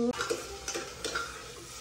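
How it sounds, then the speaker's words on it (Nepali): Onions frying in a pan at home, a soft continuous sizzle with a few light stirring scrapes, no talking. "प्याज भुट्दै हो।"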